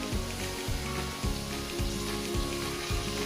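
Potato, eggplant and carrot pieces sizzle steadily in a hot pan of mixed vegetable masala, a continuous close frying hiss with periodic low thumps as the pieces are stirred, and no voices.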